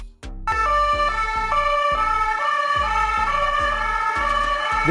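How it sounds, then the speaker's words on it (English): A French police car siren, from a Renault Koleos or Skoda Kodiaq, wails loud and close in a steady repeating two-tone pattern that starts abruptly and runs throughout with no talk. "This is the police car of France."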